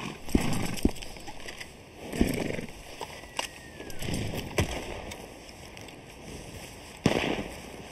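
Gunfire in Red Dead Redemption 2 on a RedM server, a few sharp distant-sounding cracks spaced several seconds apart over outdoor wilderness ambience.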